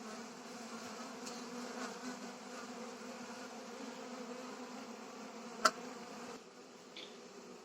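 A faint, steady drone of many honeybees buzzing close by, with one sharp click partway through.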